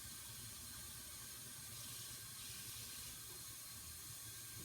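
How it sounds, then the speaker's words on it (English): Kitchen tap water running steadily while bread is being made, a constant broad hiss holding at an even level throughout, fairly close and with no talk over it. "you might probably hear the water running."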